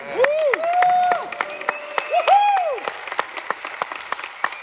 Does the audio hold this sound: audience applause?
yes